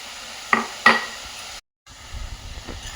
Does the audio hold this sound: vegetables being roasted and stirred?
yes